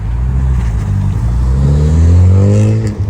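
A car with a very loud muffler accelerates on a cold, icy Toronto street, its low engine roar rising steadily in pitch and staying loud and close for the full three seconds, with no talk.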